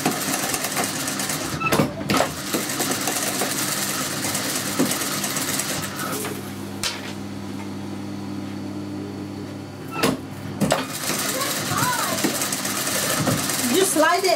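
A sewing machine runs as it seams a suit decorated with stone beadwork, its steady whirring motor starting and stopping in stretches with a few clunks between them, while people talk over it.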